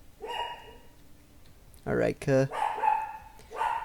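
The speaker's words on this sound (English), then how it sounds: "My dog is too, apparently. He's barking over there." A pet dog barks a few times off to the side indoors, short sharp woofs of moderate loudness, while someone talks over and between them.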